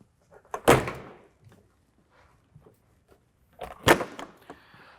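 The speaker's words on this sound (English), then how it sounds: "we'll go ahead and close the clamshell doors" The clamshell doors of an EC145 (BK117 C-2) helicopter swing shut in two sharp, solid thuds about three seconds apart, each with a little rattle and light handling noise around it in an otherwise quiet space.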